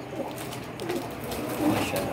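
Soft pigeon coos rise a couple of times over a quiet, slightly noisy background, close by and low-pitched.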